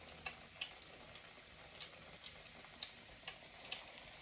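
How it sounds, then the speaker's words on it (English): Flour-dusted cod fries in hot grease in a pan for fish and chips, giving a soft, steady hiss broken by faint, irregular pops and crackles. "And we are frying cod"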